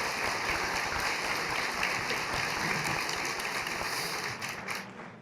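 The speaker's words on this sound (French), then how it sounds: "vous pouvez l'applaudir" Applause from a lecture-hall audience at an inaugural geopolitics lecture, as a cartoonist seated on stage is welcomed; a dense, steady wash of many hands clapping that holds evenly and thins out at the very end.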